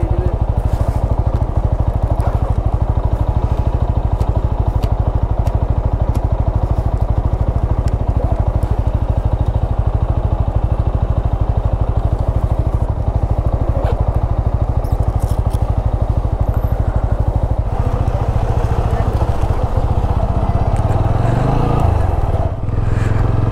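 A TVS Apache motorcycle ridden on the road toward Muzhappilangad drive-in beach gives a loud, steady engine drone with wind rush and clatter throughout, rising slightly near the end.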